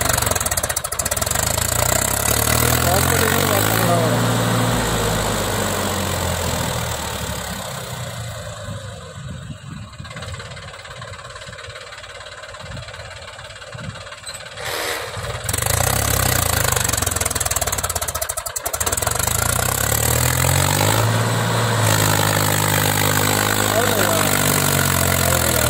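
A Mahindra 265 DI tractor engine labours hard hauling a heavily loaded trolley, a loud, rumbling drone that rises and falls in pitch, dips quieter in the middle, then swells again, with people talking over it.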